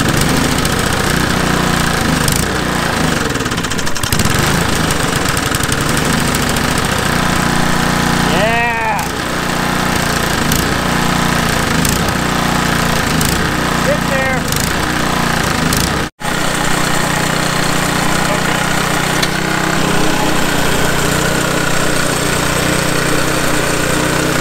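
A gasoline engine runs steadily and loudly throughout, with a brief drop near the end before the engine note returns, and voices can be heard over it.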